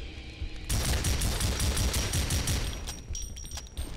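Silenced gunfire in the video game Project Brutality, a dense run of rapid muffled shots fired over several seconds that stays loud and steady and then thins out near the end.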